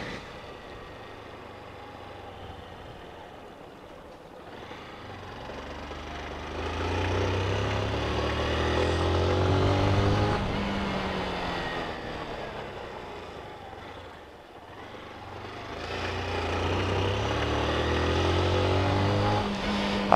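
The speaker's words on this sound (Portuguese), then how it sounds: "Aquecendo aqui o motor," A truck engine warms up at the start of a road trip, idling low and rough, then swelling twice into longer revs before settling back.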